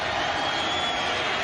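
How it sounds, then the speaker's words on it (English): Loud stadium crowd roaring steadily throughout at an NFL football game, the San Francisco 49ers at the New Orleans Saints in 1993, a dense continuous wash of noise with no distinct voices. "The crowd is so loud."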